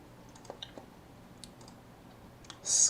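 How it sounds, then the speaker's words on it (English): Sparse, faint clicks of keyboard typing, a few scattered keystrokes up close in a quiet room, ending with a brief louder burst. "who's doing the freaking typing sounds?"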